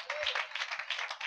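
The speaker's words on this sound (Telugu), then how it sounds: "గట్టి కొడతారు చప్పట్లో" A church congregation claps loudly and steadily in rhythm, a dense, continuous wash of hand claps heard close and without talk.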